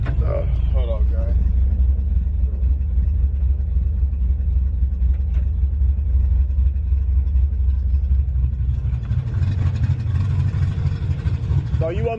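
A Chevrolet Chevelle's engine runs steadily as the car is pulled forward, a loud continuous low rumble throughout with a slight rise in intensity near the end and brief voices at the edges.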